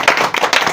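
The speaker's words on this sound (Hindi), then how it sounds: "तो बच्चे के लिए ताली बजाओ सही पे बच्चे" Applause for a student being celebrated for a top rank in an all-India exam: a short burst of dense, steady hand clapping from a group, loud and close, with no talk over it.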